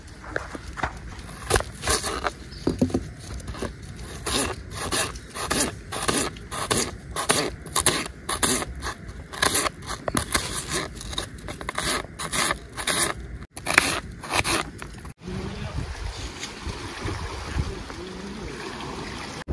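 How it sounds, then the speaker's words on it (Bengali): Onion being chopped by hand: a run of quick, sharp, rhythmic knife strikes close by, irregular toward the end where the chopping gives way to softer handling noise. "বন্ধুরা এখন আমি পেঁয়াজটারে কুচাই আনিমু"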